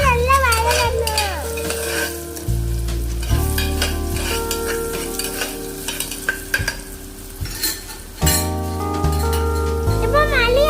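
Shallots and turmeric powder sautéing in a pan for goat leg soup, with a steady sizzle and stirring heard throughout beneath loud background music.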